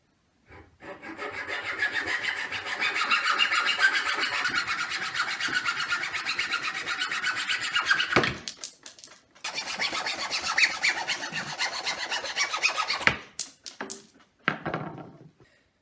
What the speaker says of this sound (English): I'm going to cut these little ends off here and here so it's not rounded on these edges.